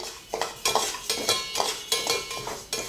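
Parboiled rice dry-roasts in a pan while being stirred for murukku, giving repeated scraping, rattling strokes in an uneven rhythm, close and moderately loud, with no talking.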